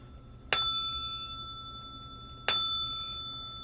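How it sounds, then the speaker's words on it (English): Two clear rings of a small bell, about two seconds apart, each a bright sharp strike with a sustained metallic tone that slowly fades, heard alone in a quiet room. "I'm going to ring the bell for you as well."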